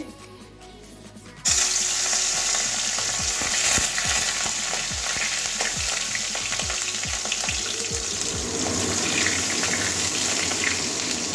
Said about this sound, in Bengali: তেল গরম হয়ে গেছে, আগে চিংড়ি মাছগুলো ভেজে নেব।